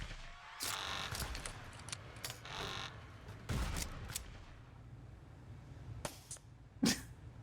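A few sharp gunshots from the border inspection game Papers, Please: isolated loud cracks spaced apart over a low ambient hum, with no voices.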